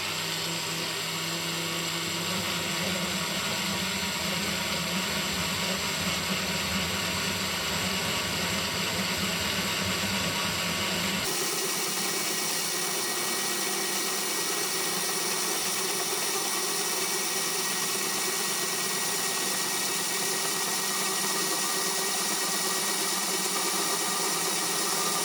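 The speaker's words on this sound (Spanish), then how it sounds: "Ahora voy a utilizar una broca escalonada para agrandar el agujero hasta el diámetro necesario" A step drill bit enlarging a hole for an oval valve socket: a loud, continuous high whine of a power drill running throughout, shifting in pitch and texture partway through, close up and without talk.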